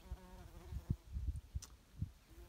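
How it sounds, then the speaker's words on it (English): A honeybee with pollen baskets full buzzes among flowers, a low, uneven drone broken by several louder close passes, with no talk over it. "look at that beautiful little bee"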